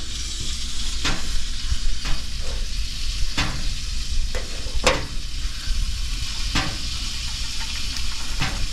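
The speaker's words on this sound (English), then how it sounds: "These are coming out of the oven now, and they're just going to be dropped straight into the sauce" Oven-baked Italian meatballs drop into a pot of simmering sauce, giving a steady hiss and bubbling sizzle broken by several distinct plops and thuds as each ball lands, close and fairly loud.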